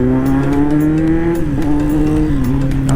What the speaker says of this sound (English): this SC project slip-on is something else, man. I'm just wondering if a slip-on is able to make this amount of sound.